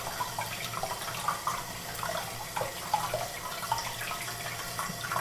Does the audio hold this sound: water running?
yes